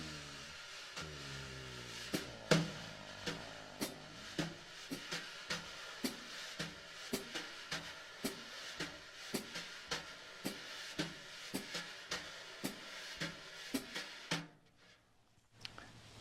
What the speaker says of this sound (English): brushes stayed in the slow meter and the hi-hat doubles up